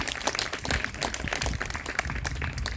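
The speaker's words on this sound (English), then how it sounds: "Round of applause for our All Virginia auditionees." Audience at a high school band awards ceremony breaks into dense applause, many hands clapping continuously at moderate volume for a few seconds.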